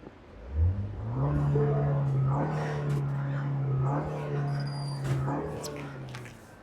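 A 2018 Ford Fusion engine is revved up and held at a steady higher pitch for several seconds, then settles, recorded close by with no talk over it.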